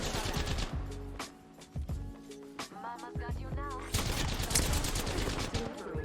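Gunfire in the Apex Legends video game crackles in rapid, repeated bursts of shots, loud and dense, with brief pauses between volleys and a voice talking over parts of it.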